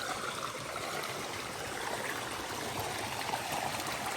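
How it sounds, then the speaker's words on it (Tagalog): A clear, very cold stream rushes in a dense, even hiss of flowing water, steady and close throughout with no voices. "Yan yung water"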